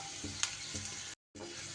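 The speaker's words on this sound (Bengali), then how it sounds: "একটু লো ফ্লেমে রসুনটাকেও ভেজে নিতে হবে লাল লাল করে।" About eight to ten garlic cloves frying over a low flame, a steady soft sizzle with a couple of light stirring scrapes and a brief drop to silence before the sizzle resumes.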